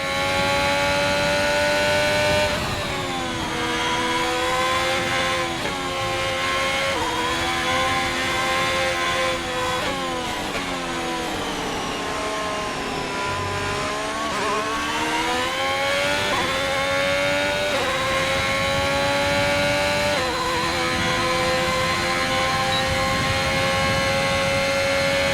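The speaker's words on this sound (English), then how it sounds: "I'll let you guys enjoy the engine sounds for this last lap or so" An F1 car engine screams through a lap of the Miami Grand Prix in the F1 22 video game, high-pitched and close, rising and falling through gear shifts and corners, with no talk over it.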